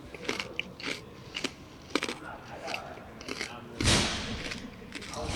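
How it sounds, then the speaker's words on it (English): Close, crunchy chewing with repeated sharp bites and munches, a louder burst near the end, quiet mouth sounds between; eating food with a horseradish-based flavour. "Sorry for the chewing noise."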